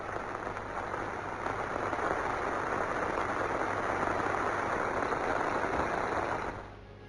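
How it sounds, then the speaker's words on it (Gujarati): Steady unseasonal rain falling on a rural area, a dense even patter that holds for about six seconds before suddenly dropping to a softer hush. "ગ્રામ્ય વિસ્તાર કે જ્યાં ફરી વરસાદ શરૂ થયો છે"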